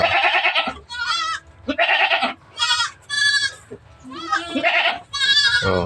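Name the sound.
goats bleating on a farm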